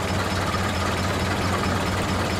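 A tractor engine in the video game GTA 5, a steady, loud, low idling rumble that holds constant and alone throughout.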